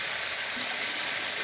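Chopped tomatoes with a little turmeric and salt sizzle in a pan, a steady close hiss of frying with no pauses and no talking.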